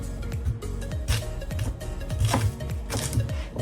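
Knife slicing sweet potato (kamote) on a cutting board, a series of close, irregular thuds and cuts about every half second, loud and uncovered by talk.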